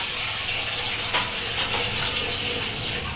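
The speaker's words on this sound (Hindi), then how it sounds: "ये कढ़ाई ले लो, ये नीचे से धो लो" Kadhai (wok) being washed under a running kitchen tap, a steady close rush of water with brief clatters and splashes as the pan is handled.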